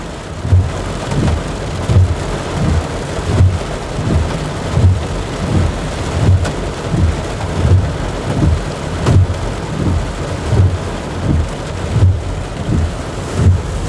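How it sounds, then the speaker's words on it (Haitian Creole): Heavy rain pours steadily outdoors with repeated low rumbles of thunder rolling through, a loud continuous wash of falling water and deep booms pulsing every second or so. "il y a un gros la pluie qui a tombé dehors"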